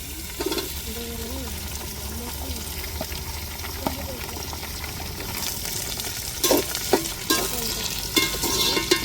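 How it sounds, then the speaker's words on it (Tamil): Tomatoes and chillies sauté in oil with a soft, steady sizzle and occasional stirring scrapes, which grow louder and more frequent toward the end. A voice hums or speaks faintly early on. "தக்காளி நல்லா எண்ணெயில் வதங்கட்டும்"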